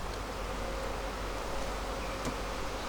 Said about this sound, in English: And we have one bee chasing another bee around,